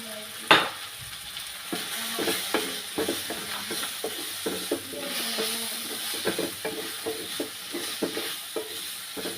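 Ground spices such as coriander powder and black pepper sizzle in hot oil for a Kerala egg roast, a steady frying hiss with a run of clicks and scrapes as a spoon stirs the pan, heard up close and alone.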